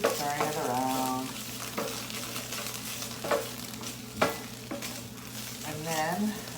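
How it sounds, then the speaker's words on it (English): Meat sauce for homemade pasta frying in a pan, a steady close sizzle with several sharp scraping stirs spaced through it, and a voice briefly heard at the start and end. "Keep stirring it because it sticks to the bottom of the pan and stuff, so I just keep stirring it around."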